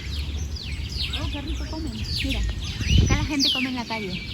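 A crowd of birds chirps and whistles busily in Peru, overlapping calls filling the air at close to moderate distance, with a low background rumble and a faint voice underneath.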